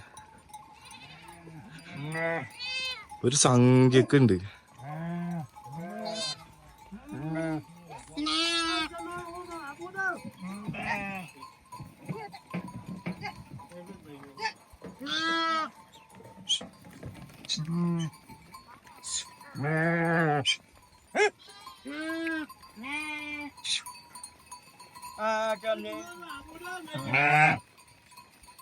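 A flock of sheep bleats repeatedly in a hill village at Gandruk, Nepal, with overlapping calls near and far as people talk over them.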